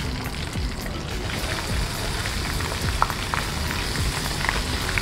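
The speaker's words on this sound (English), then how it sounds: "Sound of that sizzle is exactly what you want." Salt and pepper prawns fry in a batch of hot oil, giving a steady, dense crackling sizzle with small pops, fairly close and heard alone.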